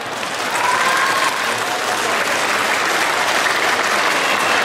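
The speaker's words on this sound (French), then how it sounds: "Donc vous pouvez vous applaudir, vous toutes les associations ici, et aussi applaudir votre maire" A crowd at an Asian festival in Bussy-Saint-Georges applauds the local associations and the mayor, producing a dense, steady wash of clapping that stays loud and even from start to finish with no talking.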